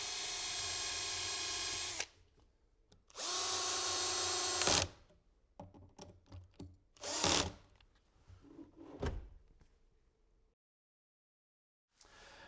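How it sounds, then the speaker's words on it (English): Power drill boring holes in a wooden drawer front in a cabinet build, two loud close whirring bursts of a couple of seconds each, then quieter clatter and handling noises with short gaps. "I can mark and drill those holes"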